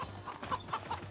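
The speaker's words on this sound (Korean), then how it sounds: "닭이 너무 빨라서 못 잡아." A chicken clucks in a video game, a quick run of short bright clucks over a low steady hum, close and fairly loud.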